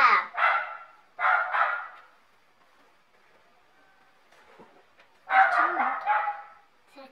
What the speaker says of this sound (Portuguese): Não deu pra mostrar porque a Cecília dá nó a latir